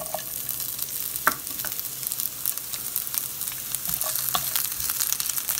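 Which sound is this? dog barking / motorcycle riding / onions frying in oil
onions frying in oil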